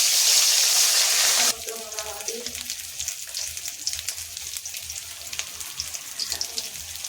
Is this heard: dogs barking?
no